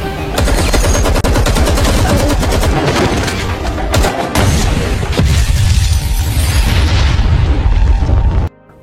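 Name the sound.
gunfire in a shootout at a bank, film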